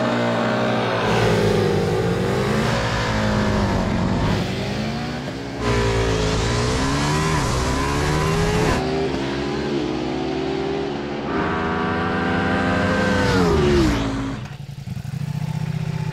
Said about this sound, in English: So, Multistrada versus KTM. Big European, stupid high-power V-twin adventure bikes.